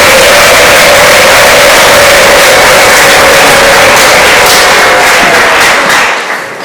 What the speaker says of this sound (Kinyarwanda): mumuha amashyi menshi.